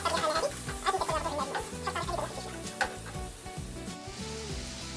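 Carrots sautéing in a pan, a soft sizzle with intermittent clinks and stirring scrapes, fairly close and steady for about five seconds with no talking.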